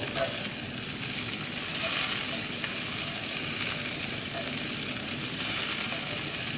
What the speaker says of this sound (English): we are going to slowly stir this, because as the heat gets into the pearls, it will start cooking them